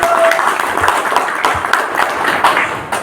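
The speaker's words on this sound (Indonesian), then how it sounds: "Aplaus untuk kita semua" Applause fills the whole stretch at a shooting club inauguration, a steady, loud wash of many hands clapping together with no pause.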